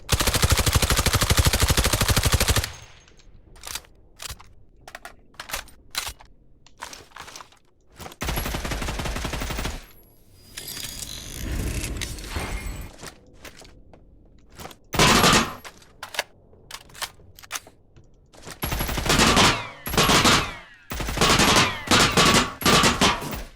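Full-auto bursts from the AUG rifle in the game Badlanders: loud, rapid gunfire in several long and short bursts, separated by quieter gaps with sparse single shots and faint background noise.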